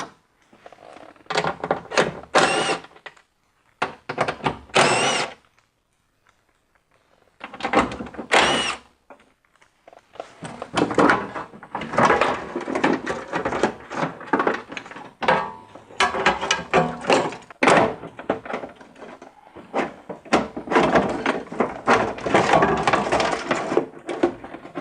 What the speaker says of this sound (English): So now we can get the old regulator out of the frame. So just remove these screws.